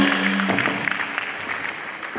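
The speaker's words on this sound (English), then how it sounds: "Please, a big round of applause for these young ladies." Applause from an audience at a Supreme Court 150th anniversary event after a performance by young girls, a steady scatter of clapping across the hall that thins slightly toward the end.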